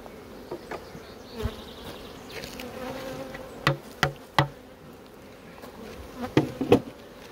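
Honey bees from a colony that has just swarmed buzz thickly around the hive, a dense close hum with a few individual bees passing loudly near and some knocking sounds.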